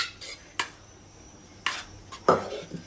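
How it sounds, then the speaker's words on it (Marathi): Boiled vegetables go into a pan of pav bhaji masala with a few sharp metallic clinks and scrapes of a spoon against the pan, spaced out over near-quiet, close up. "तर आपण टाकूया जी आपण भाजी बॉईल करून घेतली ती"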